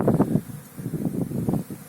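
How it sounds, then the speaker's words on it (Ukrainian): Gusty westerly wind buffets the microphone in low, rumbling bursts at an open apiary beside a field, close and fairly loud throughout. "Сильний вітер у мене на пасіці тут"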